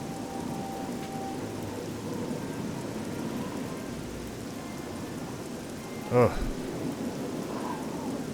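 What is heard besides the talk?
rain and thunder in a video game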